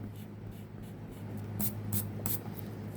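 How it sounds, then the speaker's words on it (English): A pencil eraser rubs across a drawn line on paper during a two-point perspective box drawing, with three quick scrubbing strokes near the end over a steady low hum, close and fairly quiet. "I'm going to erase some of this line here."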